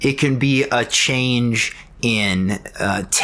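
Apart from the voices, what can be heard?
No everyday noise stands out behind the speech.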